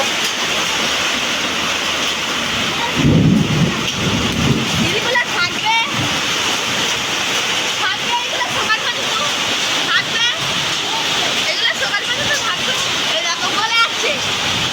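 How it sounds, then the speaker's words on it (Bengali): Heavy storm rain heard from a rooftop during a sudden March rainstorm, a steady dense roar of downpour with a heavier burst near the start, continuous throughout; a voice talks faintly underneath. "প্রচন্ড ঝড় বৃষ্টি হচ্ছে, সবে একটু কমেছে"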